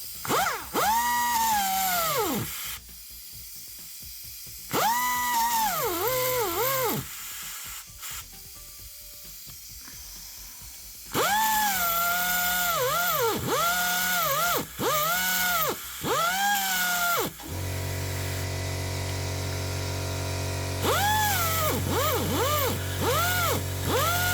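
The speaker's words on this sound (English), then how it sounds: "So this is how we're gonna drill it." A power drill whines in repeated bursts that rise and fall in pitch as it bites into the metal cylinder head of a Mercedes-Benz OM604 diesel engine, loud and close, with a steadier mechanical drone later.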